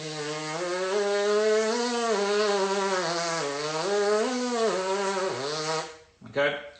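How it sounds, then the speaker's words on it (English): A brass player free buzzes the lips without a mouthpiece during a warmup, producing a continuous buzzy, pitched tone that slides up and down for about six seconds, close and fairly loud, before a brief pause and a short final buzz. "So let's just do a few free buzzing things."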